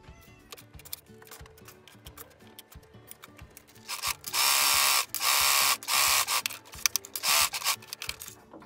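A sewing machine stitching fabric for a book-cover shoulder bag starts with scattered clicks and handling noises, then runs in several loud, steady whirring bursts separated by short pauses.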